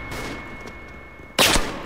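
Gunfire in an online shooter video game: one loud, sudden burst of shots cuts through a steady hum of game ambience near the end.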